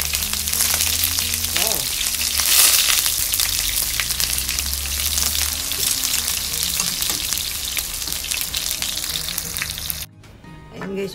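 Eggplant fries loudly in hot oil in a pan, a steady dense sizzle that runs almost unbroken for about ten seconds before dropping off abruptly, with a brief voice exclaiming over it.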